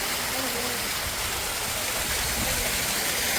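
Cold water runs and splashes steadily from a lit fountain at a family New Year outing. A loud, constant broadband rush carries on without a break from start to finish.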